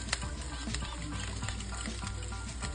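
Garlic frying in a hot pan with rice being stirred for fried rice, a constant bright crackling sizzle with scattered utensil scrapes, close and unbroken.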